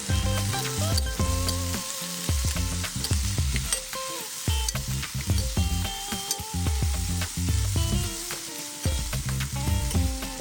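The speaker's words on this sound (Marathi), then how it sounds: "निवडून धुवून घेतलेल्या वालाच्या शेंगा टाकून व्यवस्थित सर्व शेंगा छान परतून घ्यायच्या आहेत" Hyacinth bean pods (val papdi) sauté in hot oil with garlic, asafoetida and turmeric, a loud continuous sizzle close by with frequent stirring scrapes and clatters throughout, no voices.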